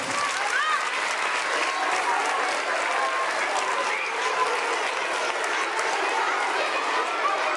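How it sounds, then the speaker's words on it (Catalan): Children clapping together for everyone at a Sant Jordi celebration, a dense continuous burst of applause with a few voices mixed into the crowd. "Un aplaudiment per tots"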